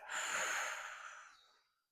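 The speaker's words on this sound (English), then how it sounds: "inhale through the nose, exhale through the mouth to release." One long, breathy exhale through the mouth, close and fairly soft, as part of a relaxation breathing exercise; the airy rush fades out smoothly over about two seconds, with no talking.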